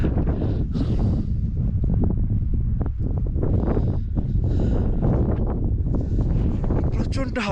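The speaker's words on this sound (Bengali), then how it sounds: "প্রচণ্ড হাওয়া চালাচ্ছে, প্রচণ্ড।" Strong wind buffets the open mountain grazing land near Sandakphu, roaring and gusting hard against the microphone in loud, uneven surges throughout.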